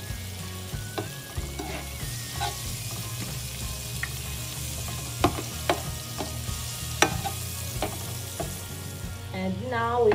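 Garlic sizzles in a hot pan at the start of a bitter gourd stir fry, a steady close frying hiss broken by sharp clicks and scrapes of stirring.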